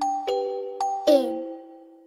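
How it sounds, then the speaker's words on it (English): Doorbell in a children's action-song recording, ringing out with several clear bright chimes, each strike sustaining and decaying with a ringing tail, the last one louder and fuller, with no voices over it. "ring the bell"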